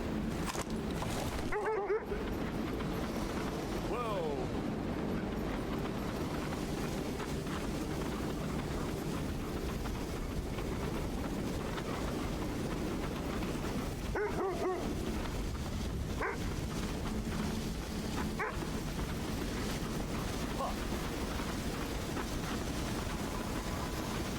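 Sled dogs in the video game Kona II: Brume bark and whimper, a few short yips and whines rising over a constant droning background hum, with soft speech-like sounds mixed in.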